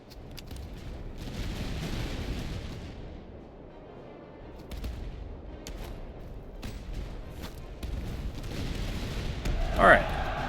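Musket volleys and artillery booms in a Master of Command battle, distant crackling fire and low rumbling blasts rising and falling, with a few sharper reports and a brief bright burst near the end.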